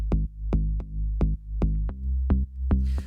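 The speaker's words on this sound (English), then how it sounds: "my sub bass in this project sounds like this" Deep sub bass line from an electronic music production, a run of sustained low notes with sharp attacks stepping through a pattern, loud and alone with no talking.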